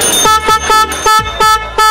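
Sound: TI original motorcycle horn sounding

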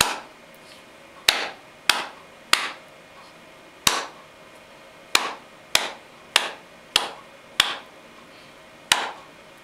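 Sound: hands clapping a rhythm

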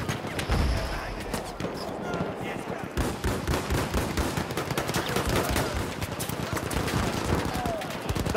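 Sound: Mondragon rifle and gunfire in a video game

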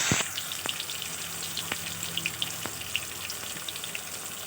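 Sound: frying chopped tomatoes and bay leaves in oil

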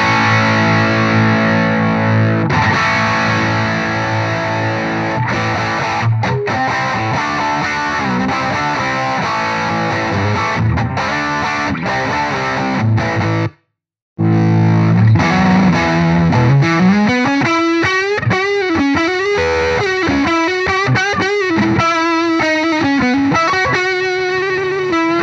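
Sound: guitar through H&K Spirit Nano amp, power amp saturation

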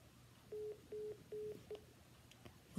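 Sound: telephone keypad dialing tones

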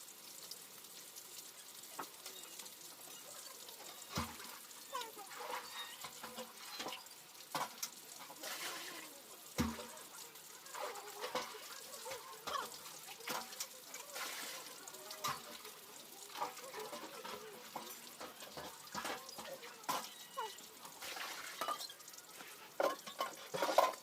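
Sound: drawing water to wash clothes

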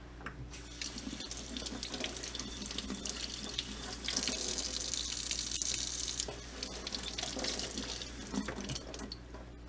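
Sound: tap water rinsing the mesh of a Teavana Perfectea maker

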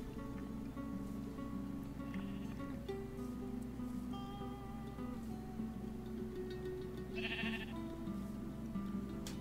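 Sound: sheep bleating in Minecraft video game

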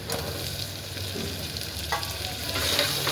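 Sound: cloves and tomatoes frying in a pan

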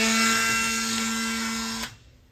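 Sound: Dremel tool cleaning ignition points

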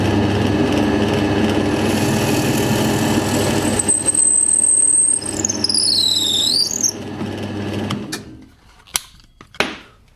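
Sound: drilling a 7 mm hole for a threaded rod

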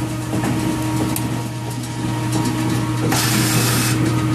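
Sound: bowling alley pinsetter machine in operation

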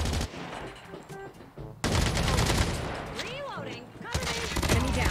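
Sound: AK-117 gunfire in Call of Duty Mobile video game

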